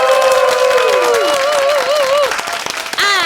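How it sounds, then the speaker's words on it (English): Studio audience at a Korean morning broadcast applauds loudly with some cheering, a dense clapping wash under sustained tonal voices or music, dropping briefly near the end before swelling again. "Let's give them a big round of applause."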